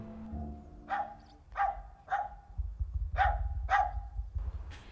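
Several dogs bark in bursts at a breeder's kennel housing around fifty purebred dogs in northern Isère, France, with about five clear barks at moderate distance over a low rumbling background.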